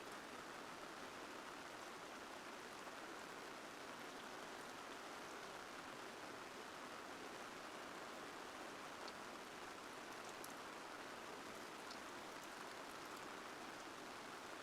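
Steady, dense rain drumming on a tarp over a car camping site, a constant loud hiss of drops with no break and no voices.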